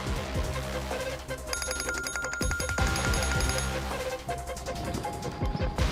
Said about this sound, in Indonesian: Itu HP bunyi, ngapa kagak diangkat?